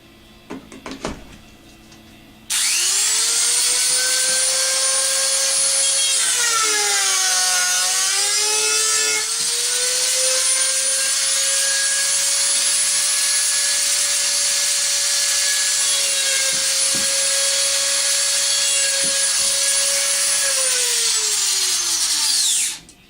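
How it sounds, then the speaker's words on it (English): A Dremel rotary tool whines loudly and continuously while carving out part of an RC plane, its pitch sagging briefly as it bites into the material before steadying and winding down. "either take your hobby knife and carve it out, or you can take your Dremel"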